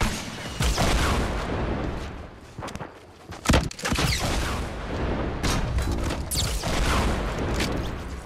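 Fortnite Battle Royale combat: a loud, dense barrage of booming blasts and gunfire rumbles close by, broken by a brief lull and then a sharp, heavy explosion before the clatter resumes.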